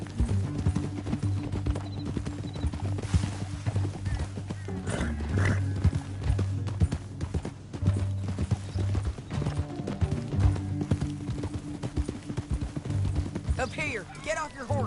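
Rhythmic clip-clop of horse hooves galloping in Red Dead Redemption 2, steady and close under a bed of game music, with a brief whinny and scattered voices talking over it.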